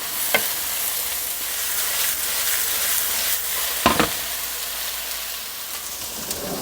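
Eggplant and chicken sizzle in a stir-fry pan, a steady hiss of frying punctuated by a few sharp scraping stirs.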